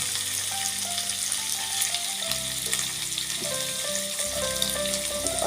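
Paneer pieces fry in hot oil in a home kitchen, giving a steady, close, dense sizzle and crackle that runs unbroken and alone for the whole stretch.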